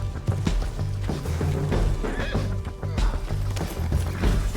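A horse in Red Dead Redemption whinnies amid busy clopping hooves, loud and close, with rapid irregular hoofbeats running throughout over game sound.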